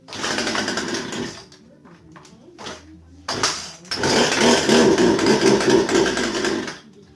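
A Poulan Pro 222 38cc chainsaw with a carburetor needing adjustment sputters into life, revving in a loud burst, dropping to a rough idle, then revving hard again for several seconds before cutting off; a voice speaks briefly.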